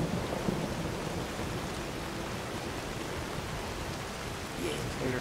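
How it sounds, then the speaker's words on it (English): Steady, even hiss of rainfall in the video game Skyrim without pause, a dense wash of noise at low level, with a slight swell near the end. "Oh, it's raining."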